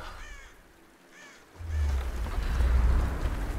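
Rain falls in the Tomb Raider video game, starting faint and then swelling after a moment into a steady, dense hiss with a low rumble beneath it, with some brief bird-like calls near the start.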